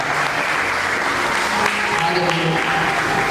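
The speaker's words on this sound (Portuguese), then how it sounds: "Aplauda o nome santo do Senhor" A church congregation claps together in sustained, dense applause, loud and continuous with a faint voice underneath.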